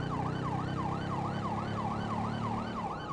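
A police car siren in the video game GTA V wails in a steady rising-and-falling cycle, loud and continuous over low engine rumble, with no talk.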